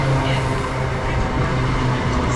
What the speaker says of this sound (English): we have a pair of 321s turning up